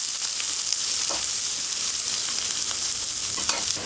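Onions and curry leaves sauté in hot oil for a broad bean thokku, a steady close sizzle with a few faint stirring scrapes and no talking.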